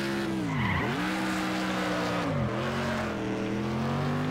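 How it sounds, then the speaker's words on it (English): In the racing game Next Car Game, a car's engine bogs down, its steady drone dipping sharply in pitch twice and then recovering, loud and continuous with a faint tire-squeal texture. "Oh yeah, the engine bogs down."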